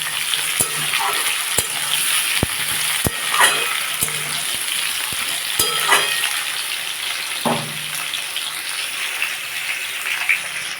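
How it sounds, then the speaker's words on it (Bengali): Bitter gourd, pumpkin, potato and tomato pieces sizzle together in hot oil, a loud, close, continuous frying hiss broken by the repeated clacks and scrapes of a spatula stirring the pan, with no voices. "দেখুন তেলের মধ্যে আমি উচ্ছে কুমড়ো আলু টমেটো সব একসাথে দিয়ে দিয়েছি এটাকে আমি ভালো করে ভাজি"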